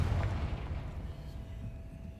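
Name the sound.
Confringo spell blast in the video game Hogwarts Legacy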